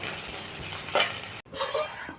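A pan frying on the stove gives a close, even sizzle with stirring scrapes, a louder scrape near the middle, then a sudden brief cut before the frying and stirring resume.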